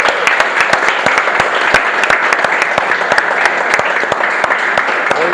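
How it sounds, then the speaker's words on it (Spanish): A church congregation at Iglesia Covenant gives sustained applause: dense, loud clapping with sharp individual claps standing out, continuing steadily for several seconds without talk. "les los recibe con un fuerte aplauso al Señor."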